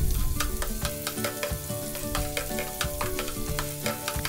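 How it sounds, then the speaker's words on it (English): Finely chopped onions sizzle steadily in hot oil in a pan, with repeated scraping and clinking of a spoon stirring them throughout. "add the finely chopped onions. Onions should be fried"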